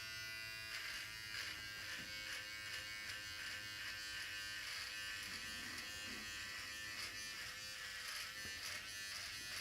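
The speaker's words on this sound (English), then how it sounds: "I'm shaving my face." An electric shaver buzzes steadily across facial hair, a continuous close, high-pitched whir with slight changes in pitch as it moves, quiet overall and with no talking.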